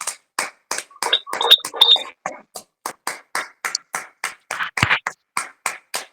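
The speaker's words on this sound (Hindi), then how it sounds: "हम सभी जोरदार तालियों के साथ परमेश्वर को महिमा करते हैं।" A congregation at a Friday open-stage prayer service claps hard in a steady, even rhythm of about three claps per second, filling the room with loud, close applause. A voice briefly joins in near the start.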